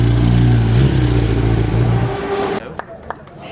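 A Honda motorcycle engine, ridden at the Manx GP race weekend, drones loud and steady up close before the revs drop away and the sound thins out, with a few sharp knocks at the end.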